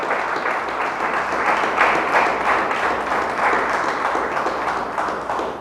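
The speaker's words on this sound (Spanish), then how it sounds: "Dele fuerte el aplauso al Señor." A church congregation applauding the Lord during a Spanish-language sermon, dense and sustained clapping from many hands, loud and continuous throughout.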